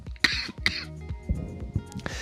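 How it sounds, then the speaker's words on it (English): A man coughs two sharp times, then gives a few softer throat-clearing rasps, close and fairly quiet in an indoor room. "And the cough."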